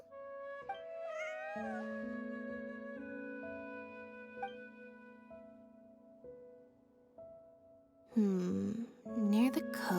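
Cat meowing in the Genshin Impact video game, a few short voiced meows rising and falling near the end, following a stretch of steady tonal game music.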